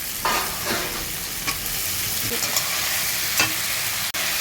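Continuous close sizzling of potatoes frying in spice paste in a pan, with repeated scraping and stirring strokes of a spoon, no voices.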